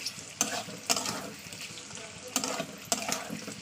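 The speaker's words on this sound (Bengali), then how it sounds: "সেই চর্বিটা আমি তেলের মধ্যে দিয়ে দিলাম, দিয়ে পেঁয়াজটাকে ভালো করে ভাজা করে নেবো" Onions fry in hot oil with meat fat, giving a close crackling sizzle. It is punctuated by four sharp spatula scrapes at roughly regular intervals, and there is no speech.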